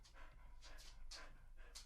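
A dog breathing heavily, a quick run of close, rhythmic pants and huffs with breathy bursts, fairly loud and continuous throughout.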